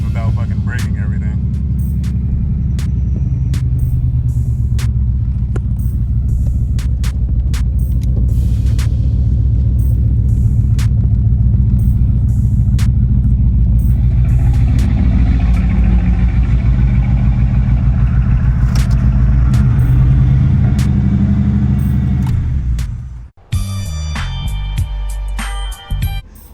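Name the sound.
Camaro Z28 car driving into garage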